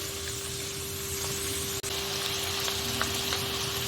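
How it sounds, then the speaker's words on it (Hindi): Finely chopped onion frying in hot oil in a pan for saffron chicken, giving a steady, dense, close sizzle that continues throughout with only a brief dip partway. "इसको तेल में अच्छे से भूनेंगे प्याज को"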